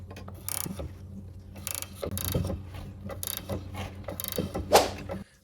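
A ratchet tightens bolts on the rear suspension of a Toyota RAV4, with rapid close clicking in short bursts and a few metallic clanks, with no talking.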